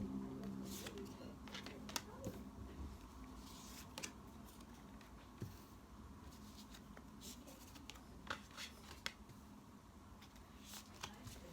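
Tarot cards handled at close range while a reading is laid out, with soft shuffling, sliding and tapping sounds running throughout and faint, sparse background noise.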